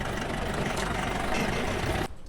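A vehicle engine from a scene in the film RRR gives a steady, dense low rumble and roar that cuts off abruptly near the end, leaving a faint murmur.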